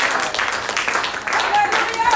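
Church congregation clapping, a brief burst of applause blended with a voice and some tonal background sound, fairly loud and close throughout.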